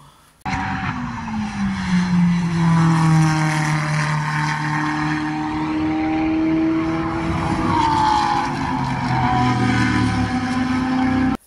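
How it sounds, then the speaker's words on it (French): A loud Ferrari race car engine screams past at a racing circuit, pitch rising then falling as it shifts gears, with tire noise and a steady roar throughout. "il y avait cette fameuse Ferrari là qui faisait un bruit de fou"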